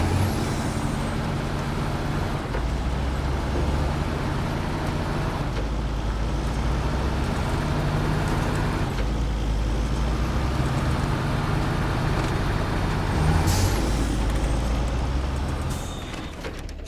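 An off-road truck in the game Snowrunner drives continuously, its heavy engine droning loud and close with deep rumbling that rises and falls through gear and load changes, and short hissing bursts at a couple of points.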